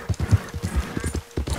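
Horse hooves clip-clop in a quick, steady rhythm of close, distinct thuds from the video game Red Dead Redemption 2.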